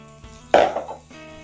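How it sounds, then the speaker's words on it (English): Chopped onions tipped into a pan of bacon grease: a single clattering scrape and thud with a brief burst of sizzle, over a low steady background hum. "We're going to go ahead and put our onions in here."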